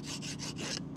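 A metal file rasps in about four quick, rhythmic strokes during a front brake pad and rotor replacement on a Land Rover LR4/LR3, close and fairly quiet.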